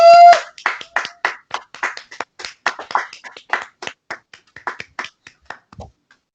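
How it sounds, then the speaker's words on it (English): A single person claps in a loose, steady rhythm, about twenty close, sharp claps over a few seconds that taper off at the end. "Let's get a round of applause for AEW."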